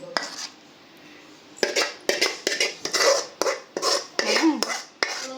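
Spoon scrapes and clinks against a plate as a mango mixture is spooned out, a close run of rapid metallic taps and scrapes after a brief quiet start, with no talk.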